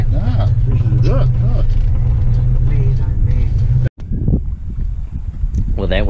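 A Valiant Pacer car engine rumbles low and steady beneath loud, close conversation, then cuts off abruptly before quieter talk resumes.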